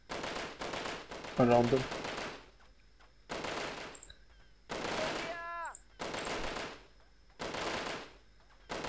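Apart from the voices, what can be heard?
bullets ricocheting amid gunfire in video game Delta Force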